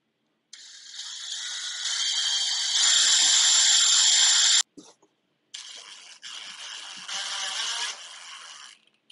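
Power drill driving small stainless steel screws into end caps of a boat scuba tank rack, two sustained high-pitched whirring runs a few seconds each with a short pause between, close and clear, no talk.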